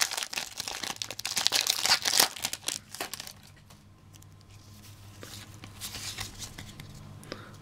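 A Pokemon card booster pack is torn open and crinkled, loud close foil crumpling and ripping at first, then fading to quieter rustling and handling of cards.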